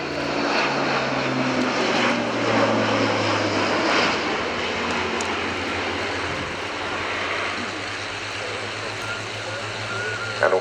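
A propeller aircraft flying a display at the RIAT Fairford airshow, its loud engine drone steady and continuous with a slowly shifting pitch, heard alone without voices.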